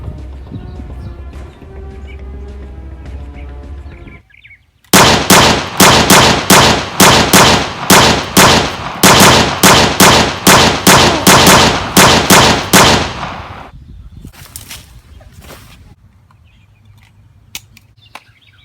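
A rapid burst of repeated gunshots in a movie shootout, loud and closely spaced for about eight seconds, follows quieter sound and trails off into near silence with a few scattered clicks.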